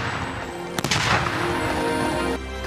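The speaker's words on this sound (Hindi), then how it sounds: "हाइड पार्क से हर मिनट बाद तोपों की सलामी दी गई।" Artillery gun salute fired in Hyde Park, London, a single sharp boom about a second in, followed by a rolling, echoing rumble across open ground.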